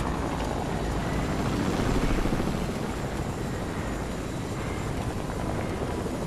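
A video-game helicopter drones loudly and continuously, its rotor wash a thick, steady rumble that swells slightly midway before settling back, with no talking.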